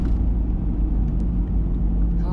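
A warmed-up car engine idles with a steady low rumble throughout, close and continuous, with a voice talking over it.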